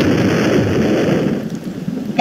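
Steady rain falls in a video game, a loud, dense wash of noise that holds throughout, with a faint rumble beneath and a brief sharp sound right at the end.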